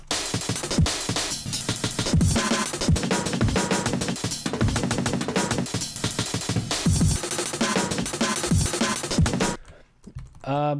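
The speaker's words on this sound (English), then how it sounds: "you'll hear each break almost blend into each other a little bit" Time-shifted looped breakbeats play continuously, layered hits overlapping and blending into one another in a dense, busy rhythm, then briefly drop out before a final hit.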